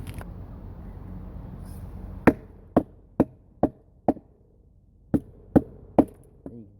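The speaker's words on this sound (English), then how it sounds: "Alright, we're gonna baton this piece of poplar." A Mora knife with a 4.1-inch carbon blade is batoned through a weathered piece of poplar: about nine sharp, close wooden knocks at an uneven pace, each with a short woody crack, over faint background noise.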